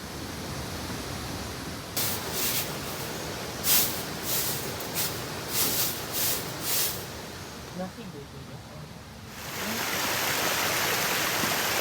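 A waterfall roars as a steady broadband rush throughout, growing louder toward the end, while people talk over it and a few brief louder bursts break through.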